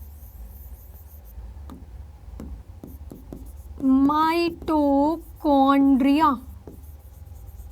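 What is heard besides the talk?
pen writing labels on a science diagram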